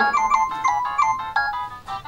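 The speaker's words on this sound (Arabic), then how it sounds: "لمين هذا الموبايل اللي عم يرن؟" Mobile phone ringtone going off indoors, a bright repeating electronic melody of short chiming notes, clear and fairly close, with no talk over it.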